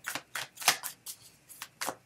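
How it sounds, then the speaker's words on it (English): A deck of clarity cards being shuffled in several quick, crisp riffling bursts, close and fairly quiet. "If more than one card falls out, I put it back in the deck and shuffle till the one card falls out."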